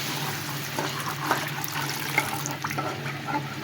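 Water poured into a pan of curry to make gravy, a brief running splash over a low background, close by and moderately loud.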